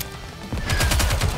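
Rapid automatic gunfire from a battle in the game Goddess of Victory: Nikke, a loud burst of evenly spaced shots starting abruptly after a brief quiet moment.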